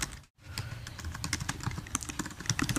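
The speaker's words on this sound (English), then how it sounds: "you type make money and then type it in different variations" Rapid, irregular keystrokes clatter on a computer keyboard while search keywords are typed, a fast close-up patter of clicks after a brief pause at the start.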